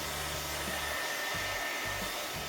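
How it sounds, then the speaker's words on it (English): A hair dryer on a low setting blows a steady, close, breathy rush of air over a photo transfer on glass, its motor hum wavering slightly, with no voices. "today I'm going to use a hair dryer on low settings"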